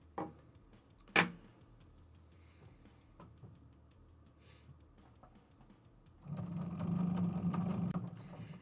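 A sewing machine starts up and runs steadily in a room, a loud continuous motor whir in the last two seconds after a couple of sharp clicks and some quieter handling sounds.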